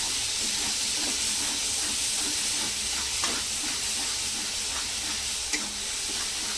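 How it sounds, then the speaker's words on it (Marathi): Green ground paste sizzling in hot oil in a pan, cooking with capsicum and softened tomato for a Marathi simla mirchi bhaji; a steady, close, even hiss with faint scattered crackles and a couple of small clinks, no voices. "हे हिरवं वाटण बनवलेलं आहे हे पण टाकते तेलामध्ये"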